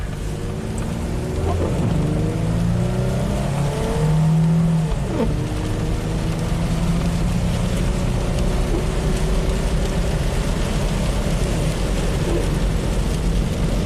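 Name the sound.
Mitsubishi Montero accelerating full throttle on icy road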